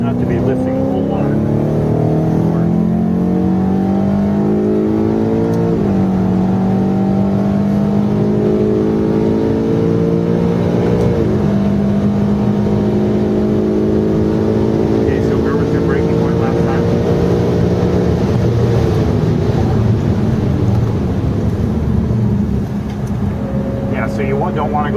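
Car engine droning on a race track at Portland International Raceway, a loud sustained hum that rises and falls in pitch with gear changes, heard from inside the car while people talk over it.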